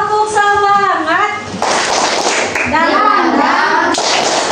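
Children in an Indonesian primary classroom do a tepuk semangat chant, voices singing out together with sharp rhythmic hand claps in bursts, close and loud.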